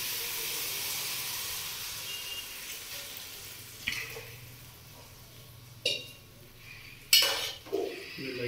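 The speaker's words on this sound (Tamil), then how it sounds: "இப்போ நம்ம கரைச்சி வச்ச புளி தண்ணி சேர்த்துக்கலாம்" Tamarind water poured into a pan of sautéed bitter gourd gives a soft, continuous sizzle and hiss, punctuated by a few sharp clanks of a utensil against the pan.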